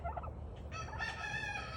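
Turkey hens give a stranger reaction call rather than a full alarm, with rising harmonic gobbling and clucking notes over steady low background noise, close and moderately loud, with no talking.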